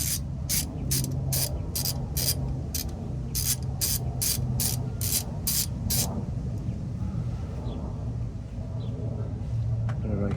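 Ratchet clicking in quick repeated bursts while removing transmission filter bolts on a 2016 Toyota RAV4 XLE, over a low garage rumble, then quieter faint mechanical noises.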